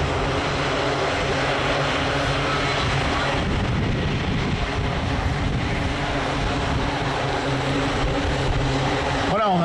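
A pair of Mirage 2000 NK3 jet fighters roar past at an air show at Juvaincourt, a loud, sustained engine rumble filling the air and drowning out a faint announcer's voice, then cutting off abruptly.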